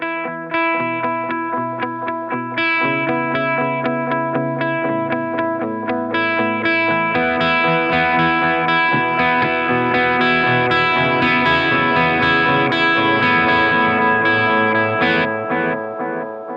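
Electric guitar through a Holy Era delay pedal with its delay time set by tap tempo, sustained chords and picked notes trailed by rhythmic repeating echoes building into a dense shimmering wash, loud and with no talking.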